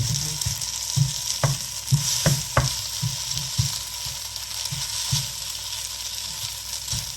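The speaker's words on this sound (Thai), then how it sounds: "ทีนี้เราก็เอาพวกเบคอนอะไรลงล่างนะคะนะ เขาจะได้หอมนะคะนะ ใส่ล่างเลย" Bacon sizzles and fries steadily in a pan, under a bright continuous hiss with a few sharper pops and stirring knocks near the start, and no talking.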